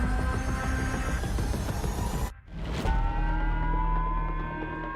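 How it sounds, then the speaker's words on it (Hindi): A loud, steady wailing air-raid siren in Hokkaido, Japan, during a North Korean ballistic missile test holds a constant tone, cuts out briefly, then resumes and keeps droning on. "जापान के होक्काइडो में सायरन बजने लगा है"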